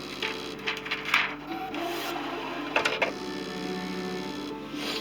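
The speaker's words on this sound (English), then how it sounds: "that's about as noisy as the machine gets" A Brother SDX1200 cutting machine running through a cut, a steady mechanical hum with soft rhythmic whirring and occasional louder ticks and rubbing, moderately loud and close, with no talking.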